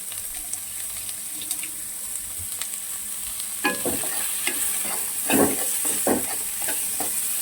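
Food fries with salt in a non-stick pan, giving a steady sizzle under a quiet hiss, then scraping and stirring clatter joins in the second half, close by and with no talk.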